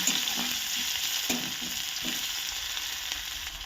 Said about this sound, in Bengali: পেঁয়াজ কুচিটাকে একটু লাল লাল করে ভেজে নিতে হবে।